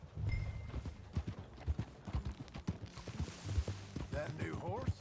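Horse hooves clip-clop at a riding pace in Red Dead Redemption 2, a steady run of close, distinct hoofbeats with voices talking over them.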